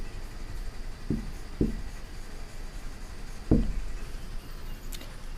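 Chalk or marker taps and strokes on a classroom board during an English grammar lesson, a few distinct hits over a steady room hiss with no talking.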